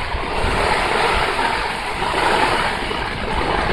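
Wind and rain batter a tent in a steady, loud, broadband rush close around the listener, with gusts swelling and easing slightly and no speech.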